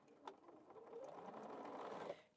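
A sewing machine backstitching quilt pieces, a short, quick run of mechanical needle chatter close by at low volume, with a brief pause at the start and no talking.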